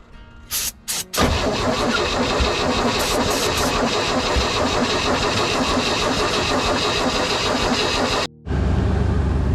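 A 1964 dump truck, not run for 15 years, cranks briefly twice. Its engine then catches and roars loudly and steadily at close range, drops out for a moment, and comes back.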